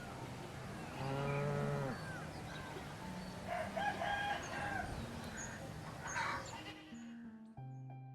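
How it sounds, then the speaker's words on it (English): Farm animal calls from a video game: a cow's moo near the start, with chicken clucks and a rooster-like crow mixed in, followed by a few short tones at the end, with no talk. "It's like a moo, and there was a clucking sound. There were chickens."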